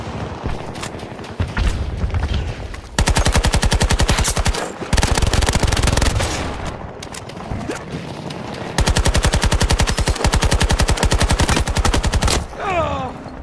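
Bursts of AK74U automatic fire in Battlefield 2042, loud and close, with long rapid strings of shots separated by short pauses and scattered single cracks between them.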